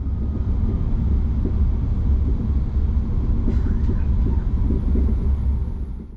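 Steady rumble of an SBB New Pendolino train running toward Zurich, heard from inside the carriage as a constant low roar with faint rattles and a brief clack midway.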